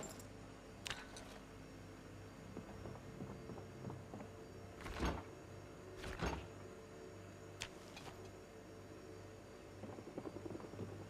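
A helicopter in the video game Project Zomboid drones faintly and steadily in the distance, with a low rumbling hum running throughout and occasional soft clunks and thuds of in-game objects on top.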